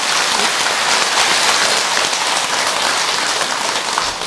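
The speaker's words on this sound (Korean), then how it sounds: "교무 스님한테 박수 크게 한번 드려." A Buddhist temple audience claps loudly during a dharma talk, a dense, even, rain-like roar of many hands that holds steady for several seconds without speech.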